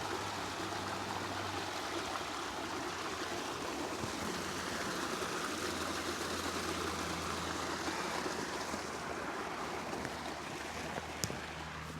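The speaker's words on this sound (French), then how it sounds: "La rivière en bas là." A river flows far below a snowy mountain trail in the Mercantour massif, giving a steady, moderate rush of water that runs unbroken, with no voices.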